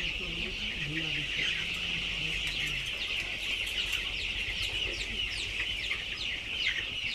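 Chicks and hens clucking and cheeping steadily in a poultry mother unit, a dense, continuous chorus of small calls throughout, with a few lower clucks near the start.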